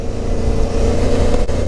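A Suzuki V-Strom 650 motorcycle engine drones loud and steady while lane splitting through New York City traffic, with a constant close rumble and wind noise and no talking.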